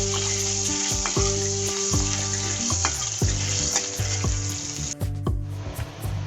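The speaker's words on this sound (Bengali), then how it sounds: "কড়াইয়ের মধ্যে গরম তেলের মধ্যে দিয়ে দিচ্ছি আমি তিল।" Sesame seeds hit hot oil in a wok with a loud, continuous sizzle, punctuated by repeated scraping stirs of a spatula against the metal, no voices present.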